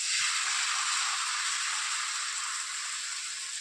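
Even, close sizzling hiss of batter cooking on a hot griddle, continuous and unbroken, with no voices.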